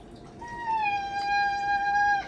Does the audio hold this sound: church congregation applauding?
no